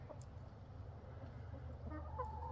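Chickens clucking softly and intermittently near a rural homestead, the calls faint against a steady low rumble of background noise.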